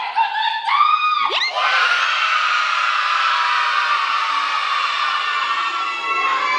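A large group of children at a clown show in a parish shouting and cheering loudly in unison, a sustained roar of young voices filling the space.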